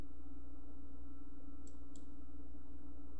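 Two quick computer mouse clicks selecting an option in Adobe Fireworks CS4, crisp and close, spaced about a quarter second apart over a steady background hum, with no talking.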